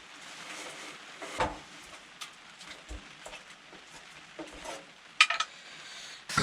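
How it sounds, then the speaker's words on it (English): Garlic sizzles softly in a pan at an outdoor camp cooking setup, a faint steady hiss broken by a few sharp clinks and scrapes of a utensil against the pan. "Get that garlic all nice and cooked in."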